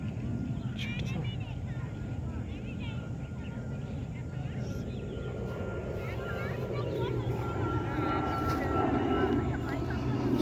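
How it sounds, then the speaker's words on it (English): Airplanes flying overhead above a rose garden, a steady broad engine roar that swells slightly toward the end and runs continuously beneath outdoor background noise and some nearby talk. "So many planes are going."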